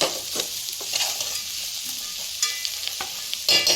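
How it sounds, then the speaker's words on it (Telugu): Salted sprouts curry fries and is stirred in oil, giving a close, bright sizzle with crackles and short spatula scrapes and stirs, and no talking. "ఇప్పుడైతే కొంచెం ఫ్రై అవ్వాలి నూనెలో"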